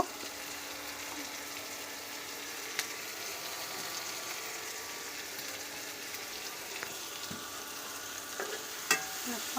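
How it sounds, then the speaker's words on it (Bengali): Onion stirred and frying in a pan gives a continuous, even hiss of sizzling oil, fairly quiet and close, with a few faint scrapes and taps of the utensil scattered through. "পেঁয়াজটা একটু নেড়ে চেড়ে নুন দেব"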